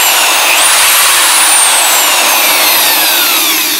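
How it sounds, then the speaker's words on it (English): A loud, steady high-pitched whine of a power drill running off a power inverter hooked to a 12V battery, continuously at full speed, close by, with no pauses. "And so I could just test out my drill here."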